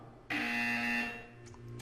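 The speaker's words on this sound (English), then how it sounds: "You will hear a buzzer. When you hear the buzzer, stare at the art." A buzzer in Portal 2 sounds once, a loud, harsh, steady electronic drone lasting about a second that starts abruptly and then fades into a quieter hum.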